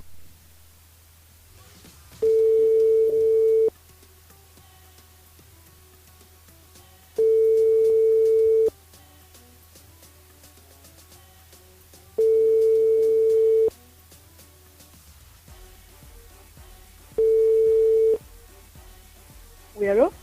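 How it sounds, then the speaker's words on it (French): A radio show's phone line rings out while the host waits for a caller to pick up: four evenly spaced, steady ring tones, each about a second and a half long, separated by silences, over a low background hum. "on appelle Edith"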